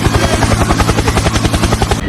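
Helicopter in the video game Kuroko test, loud, steady rotor thumping with a rapid, even beat over an engine drone, close and continuous with no talk.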